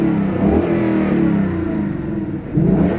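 A Ford Mustang Mach 1 V8 revs in quiet exhaust mode, giving a steady, muffled low rumble that swells near the end, heard close and alone with no talking.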